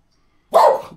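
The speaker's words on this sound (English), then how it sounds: "The dogs." A single sharp dog bark bursts close and loud after a moment of silence, then trails off quickly.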